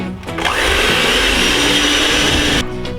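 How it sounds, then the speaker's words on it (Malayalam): An electric beater whirs loudly and steadily through wet ingredients for a coconut cake, close by, starting after a brief moment and cutting off just before the end. "അങ്ങനെ നമ്മൾ ബീറ്റ് ചെയ്ത് എല്ലാം വെറ്റ് ഇൻഗ്രീഡിയൻ്റ് റെഡിയായി."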